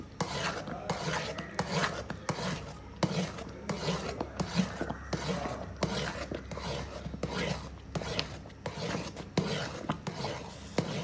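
Rava kesari being stirred in a pan, a steady close scraping and rasping of the spoon against the metal in quick repeated strokes, with a voice talking over it.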